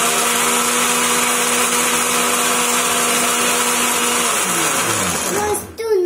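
A blender whirs loudly and steadily while mixing a mango shake with milk, a constant close motor roar that winds down abruptly at the end.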